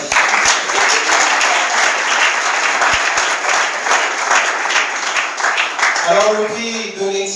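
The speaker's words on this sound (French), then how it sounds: "Est-ce qu'on peut applaudir pour notre Daddy?" Loud, dense applause from a large audience at the Nzondinga Awards ceremony, steady clapping throughout, with a few voices rising near the end.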